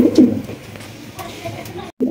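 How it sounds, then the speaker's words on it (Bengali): Lahori pigeon pair cooing close by, a rolling low coo repeating through the clip with brief pauses, other birds faintly in the background. "একদম 1800 টাকায় ক্রিমবাল লাহোরি পাইতেছেন।"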